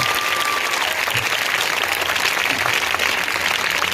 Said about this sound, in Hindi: एक अच्छी ताली बजाकर प्रभु के लिए जोर से